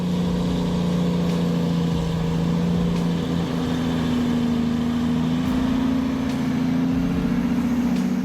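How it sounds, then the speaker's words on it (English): An old logging truck with a 13-liter engine descends a steep grade, its engine giving a steady, deep droning hum at even pitch, fairly faint and continuous with no talk. "This old logging truck with a giant 13-liter engine and massive cylinders wasn't built to climb mountains."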